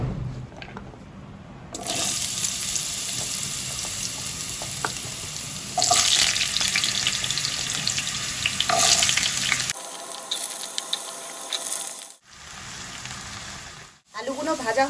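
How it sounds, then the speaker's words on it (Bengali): Diced potatoes for ghugni fry in hot oil with a loud, steady sizzle close by, broken by brief quiet gaps toward the end. "এই আলুগুলোটা আগে ভেজে তুলে নেব।"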